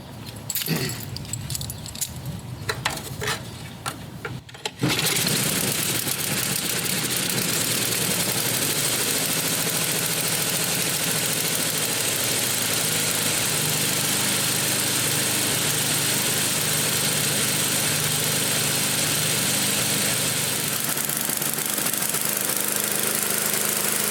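A snowblower's small gasoline engine with the choke on catches after a few short cranking bursts, then settles into a loud, continuous steady idle that runs unbroken to the end.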